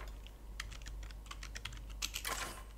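Keys clack on a computer keyboard in short irregular bursts, close and fairly quiet, with quicker clusters of strokes toward the end and no voice over them.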